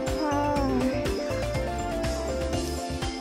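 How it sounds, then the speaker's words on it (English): In the Little Busters! video game, a cat meows repeatedly in drawn-out, wavering calls over steady background music. "These are some really laid-back cats."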